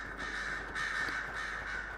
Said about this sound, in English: These crows are driving me insane. Sounds like a horror movie.